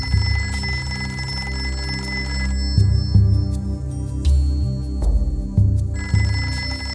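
A telephone bell rings repeatedly in bursts over a steady low hum, loud and close, in an indoor domestic drama scene.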